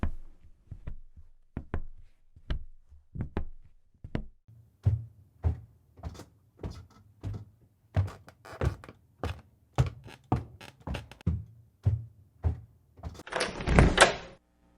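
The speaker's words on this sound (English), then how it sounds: "You climb the stairs and open the door." A door is worked at the top of a stairway in a long run of heavy, near thunks and knocks that come at a steady pace, ending in a louder, harsher rattling burst.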